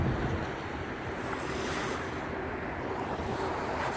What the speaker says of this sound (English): Just at the beach.